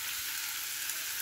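Beaten egg poured into a hot pan for a cucumber, carrot and cabbage omelette gives a steady, even sizzle of frying that fills the whole moment without any talking.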